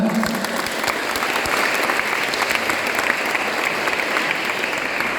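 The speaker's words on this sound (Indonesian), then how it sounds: "Tepuk tangan semuanya ya." Steady, dense applause from a large audience fills a chess tournament hall at an elementary school competition, loud and continuous throughout with no talk over it.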